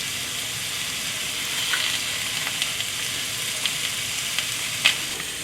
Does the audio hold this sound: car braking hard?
no